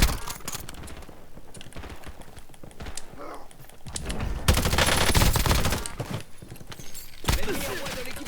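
Automatic weapon fire from the video game Warzone crackles in loud bursts, heaviest through the middle stretch, with a softer lead-in of clatter and a final burst near the end.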